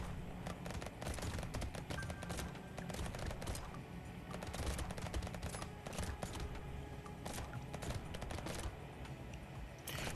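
Rapid gunfire from the video game Brotato rattles constantly in dense, overlapping bursts with no pause, close and steady throughout.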